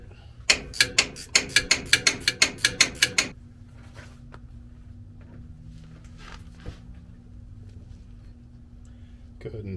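A hand ratchet spins off bolts during disassembly of a ZF5 transmission on an OBS Ford truck for a clutch job: a quick, close run of about a dozen sharp metallic clicks, then a quiet garage with a low steady hum.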